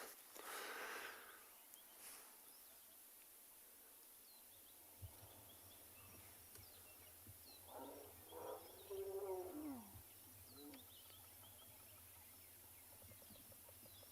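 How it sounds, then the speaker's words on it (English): Elephants on a morning safari in South Africa scream far off, faint trumpeting calls rising out of quiet bush ambience in a couple of bursts, alone with no talk. "Sounds like elephants screaming down there."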